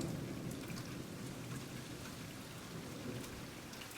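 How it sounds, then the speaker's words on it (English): Spring rain falls steadily around an orchid shade tent, a dense, even hiss of drops close by with scattered sharper taps and a low background rumble, continuous and alone. "Not long after I put the tent up, the orchids got their first taste of the spring rain."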